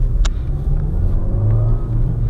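A 2020 Nissan Versa S with a manual transmission drones and rumbles steadily from inside while accelerating, a low continuous hum with a couple of faint clicks.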